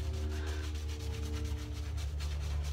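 Shaving brush working lather onto a freshly shaved scalp, with a steady close rubbing, swishing texture running continuously and evenly throughout, no speech.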